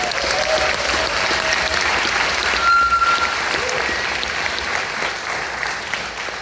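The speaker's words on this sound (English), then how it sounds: "Would you give Ed a round of applause?" An audience at a school band concert with middle school musicians gives a round of applause, many hands clapping in a loud, even wash that holds steady before tapering slightly at the end.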